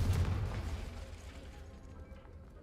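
A Confringo explosive spell cast in Hogwarts Legacy, a single loud boom at the start with a deep low rumble that fades away over a couple of seconds.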